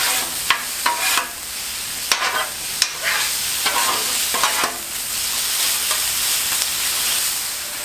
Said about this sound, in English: Alright, stir it up for about a minute.